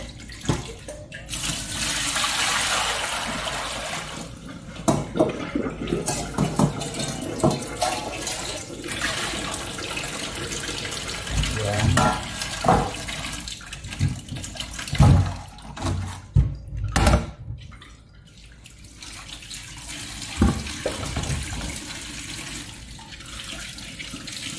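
Water runs steadily into a pot for boiling sweet corn, a continuous splashing pour with a few clunks and shifts of the stream, and no talk over it.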